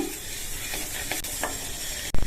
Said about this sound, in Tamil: இந்த மல்லிய மிதமான தீயில வச்சு கருகிராம வாசனை வர வரைக்கும் வறுத்துக்கணும்